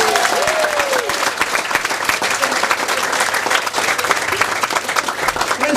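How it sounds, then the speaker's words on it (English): Dense, steady applause from a large wedding crowd, sustained throughout with a few faint whistles early on. "Round of applause, everybody."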